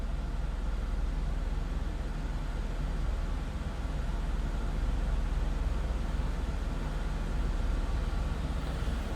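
A 2001 Mercedes-Benz SLK320 retractable hardtop convertible idles steadily, heard from behind the car as a quiet, continuous low rumble with broadband noise and no speech.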